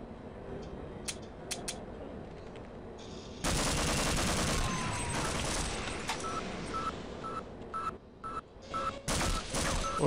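Half-Life gameplay with an automated turret firing rapid bursts of gunfire, loud crackling volleys starting midway after quieter game sounds and beeps, continuing in uneven bursts.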